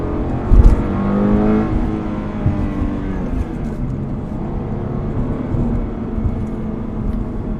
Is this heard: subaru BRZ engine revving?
yes